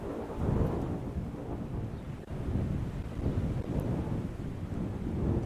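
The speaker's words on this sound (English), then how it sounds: "So very windy." Strong wind buffets the microphone at an outdoor high school baseball game, a steady loud rumbling roar with gusty swells and no clear talk.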